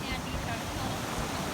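Rough surf breaking on a black sand beach along a Pacific coast highway, a continuous broadband wash of churning water and wind noise, loud and close with no break over the short stretch.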